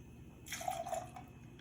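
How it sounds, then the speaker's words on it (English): Squirt grapefruit soda pours briefly into a glass, a short close trickle and fizzy splash lasting under a second in a quiet kitchen setting. "So I'm gonna do 2 ounces of that."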